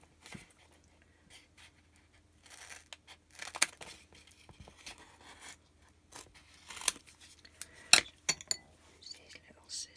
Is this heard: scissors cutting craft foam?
yes